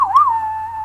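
A short whistled western-style melody, a single clear tone that swoops briefly and then holds steady, loud and close, with no talking.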